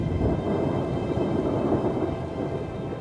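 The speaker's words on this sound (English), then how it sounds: "The seasonal drop in temperatures bring heavy rain and storms" Heavy rain pours steadily through a thunderstorm as a loud, dense, continuous roar with rumbling thunder mixed in, and no voices are heard.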